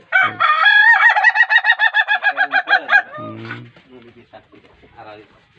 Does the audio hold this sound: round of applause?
no